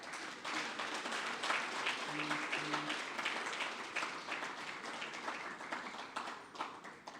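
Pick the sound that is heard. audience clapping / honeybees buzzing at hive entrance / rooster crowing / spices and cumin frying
audience clapping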